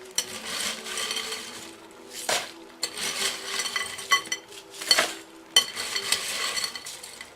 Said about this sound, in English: So we're going to put this rock salt ice mixture in this bigger bag to begin with.